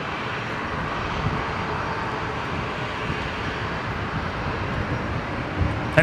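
An aircraft taking off from runway 01 left at Brisbane Airport makes a steady, moderately loud engine roar that holds evenly throughout, with no voices.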